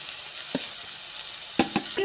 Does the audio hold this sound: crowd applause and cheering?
no